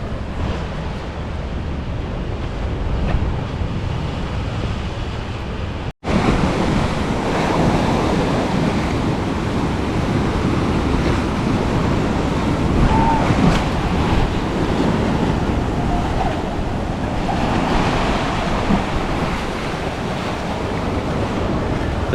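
Ocean waves crashing against rocks as the tide slowly comes in, a steady, loud roar of surf with wind buffeting the microphone and a brief dropout early on.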